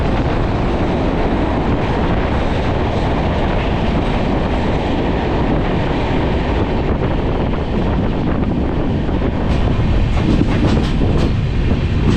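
A Mandovi Express train on the Konkan Railway rumbles steadily along the rails, loud and close, with wind buffeting and faint rhythmic clatter of the wheels.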